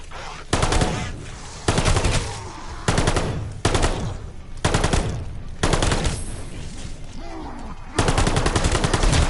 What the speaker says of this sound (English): Sounds like a laser gun.